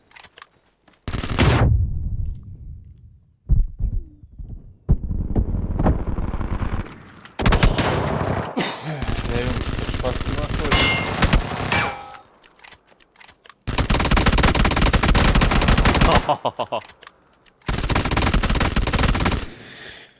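Bursts of automatic gunfire in PUBG: Battlegrounds, with short single shots early on and then long sustained rattling volleys separated by brief pauses. The firing is loud and close, and no one speaks over it.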